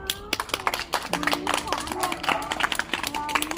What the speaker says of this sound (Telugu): Okay children, give good clap.